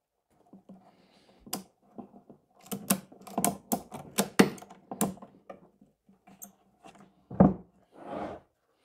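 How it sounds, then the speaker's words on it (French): Ratchet strap being cranked tight around a set of wooden furniture pieces clamped together like a frame press, giving a run of sharp mechanical clicks and ratcheting snaps, close and clear, ending with a couple of longer rasping pulls. "Donc, une sangle à cliquer."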